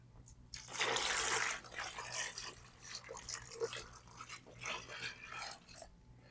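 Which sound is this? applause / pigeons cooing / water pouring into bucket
water pouring into bucket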